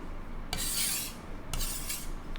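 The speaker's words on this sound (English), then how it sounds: "So I did a shortened type stropping on this stone" A Chinese cleaver is stropped across a sharpening stone in two short, gritty rasping strokes about a second apart, close and fairly quiet with no talking.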